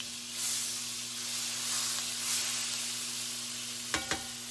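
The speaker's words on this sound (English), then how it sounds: "Sizzling." Food sizzles in a frying pan greased with butter before bacon goes in, a steady bright hiss over a low electrical hum, with two sharp clatters of a utensil near the end.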